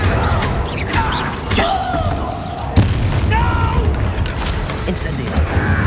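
Bombarda spell explosion in the video game Hogwarts Legacy, a sharp burst that stands out in a dense, continuous mix of game effects, with a voice talking over it.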